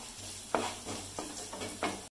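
Onions with a little salt sizzle gently in a pan while a utensil stirs them, giving several soft scraping strokes over the continuous frying hiss, close and fairly quiet.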